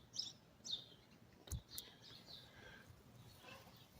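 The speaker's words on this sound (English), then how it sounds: "Beautiful birds." Birds chirp outdoors in short, faint, high calls spaced through a quiet background, with a couple of brief clicks partway through.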